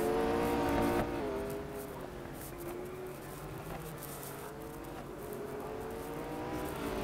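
A McLaren 765 LT in the racing game Real Racing 3 howls through its revs, the engine pitch climbing and falling in smooth sweeping tones over a steady whir.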